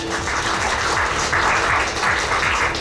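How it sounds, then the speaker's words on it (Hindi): An audience at a BJP municipal election rally in Govindpuri-Kalkaji, Delhi, breaks into loud, sustained clapping that fills the whole moment with no voices. "जोरदार ताली बजा दीजिए।"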